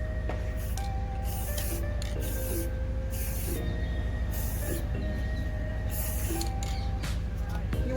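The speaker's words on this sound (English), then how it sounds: "I am spraying it away so that it flies on the other side" Spray paint hissing from an aerosol can outdoors in the wind, aimed away so the mist drifts off while painting room decor, a steady close hiss running throughout with brief pulses and a constant low background rumble.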